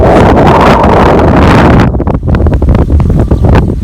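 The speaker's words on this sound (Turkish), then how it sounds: "Aşırı derecede rüzgar var." Strong wind roars across the microphone in a loud, constant rumble with gusty buffeting, no voices heard.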